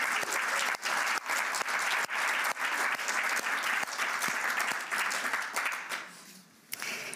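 Sustained audience applause fills a World Economic Forum social innovation awards ceremony in Davos, dense steady clapping that holds for several seconds before thinning out near the end.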